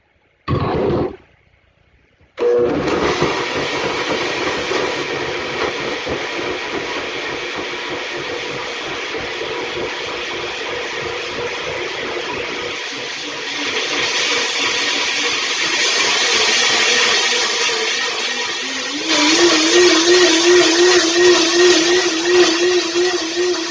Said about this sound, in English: Again, I'm going to use my blender. Sorry, guys, it's going to be loud.